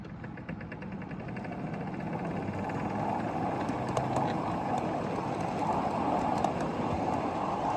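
Ride-on scale train rolling along its track under regenerative braking, a steady rumbling drone with rhythmic clicks over the rails, close and fairly loud, no voices.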